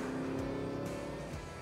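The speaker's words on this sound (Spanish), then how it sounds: "¡Qué forma de acelerar, por favor!" A 2021 Audi S8 accelerates hard, its engine note climbing in a sustained, loud roar with rising harmonics from inside the car, with no talking.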